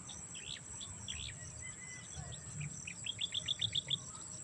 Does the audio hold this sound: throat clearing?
no